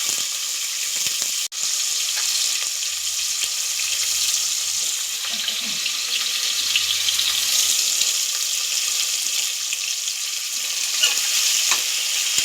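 Onions fry with spices in ghee for a simple pulao, producing a dense, continuous hiss that stays loud and close throughout. One brief knock is heard near the start, and nobody speaks.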